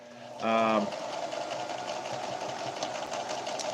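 Sewing machine stitching a stained glass window quilt block: one short, loud, buzzing run of stitches lasting about half a second, then a quieter room hum.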